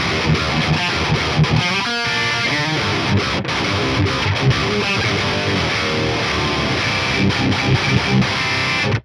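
Electric guitar played through a high-gain amp plugin with heavy distortion, a dense, continuous driven riff with a clanky attack, loud and alone.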